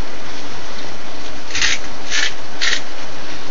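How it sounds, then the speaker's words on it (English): A hand grinder cracks fresh black pepper in three short, gritty bursts over a steady background hiss, close and fairly loud. "Put some cracked black pepper. Grind that sucker right up."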